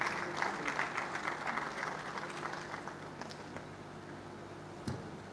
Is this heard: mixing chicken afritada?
no